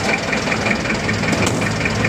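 A forklift engine runs steadily through a ride along the Pasig River esplanade, with a continuous low rumbling drone and a faint rhythmic knock, close and fairly loud, with no voices.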